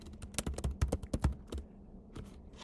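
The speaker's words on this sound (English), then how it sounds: "I'm having a hard time typing today, I guess." Fast bursts of clacking keystrokes on a computer keyboard come in an uneven run, loud and close, then pause briefly before a few final taps.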